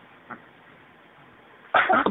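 A baby gives a short, soft sneeze near the end, after a quiet stretch with one faint small sound earlier.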